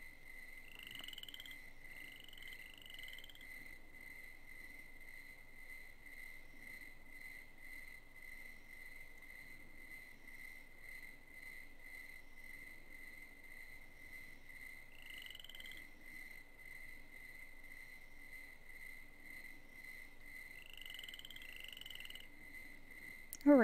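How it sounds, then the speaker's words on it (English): Quiet marsh ambience in the game Tingle's Rosy Rupeeland: a steady high cricket trill runs throughout, with a few brief chirps scattered in and a faint low hum underneath. "It's so quiet and marshy and crickets and stuff."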